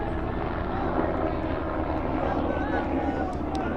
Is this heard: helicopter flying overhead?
yes